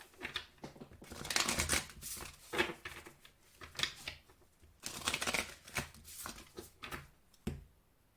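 Oracle message cards being shuffled by hand in repeated papery bursts of riffling and slapping, close and soft, with short pauses between rounds.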